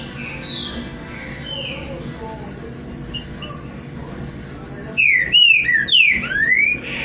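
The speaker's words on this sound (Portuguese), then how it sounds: "Fenômeno, passarinho só tem esse canto." A green-winged saltator (trinca-ferro) sings loud, clear whistled phrases near the end, several rising and falling notes in quick succession, after a stretch of quieter background with faint distant chirps.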